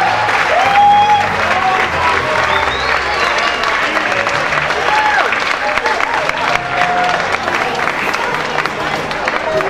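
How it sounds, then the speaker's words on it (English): An audience applauds costume contest winners at a Superman festival, with steady, dense clapping and crowd murmur throughout, close and loud. "a big round of applause not only to our winners, but all of our participants"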